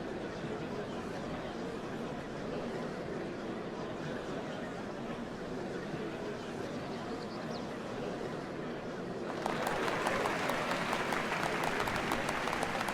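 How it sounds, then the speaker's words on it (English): A big in-game crowd in Final Fantasy XIV: Dawntrail claps and murmurs at a Dawnservant ceremony, a steady wash of applause that swells louder and brighter near the end, with no voices rising above it. "What a crowd!"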